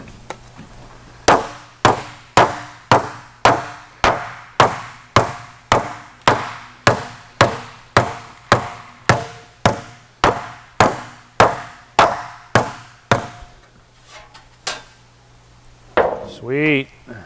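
A hammer strikes the metal dash panel of a Porsche 550 about twenty times in an even rhythm, each blow sharp and ringing. The pounding stops near the end, followed by a brief ringing, warbling tone.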